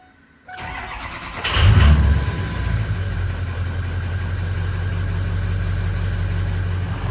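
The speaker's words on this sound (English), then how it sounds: "Let's give it a crank, make sure she cranks up." A Ford 6.0 Powerstroke diesel truck engine cranks briefly, catches with a loud low surge, then settles into a steady, rumbling diesel idle that continues to the end.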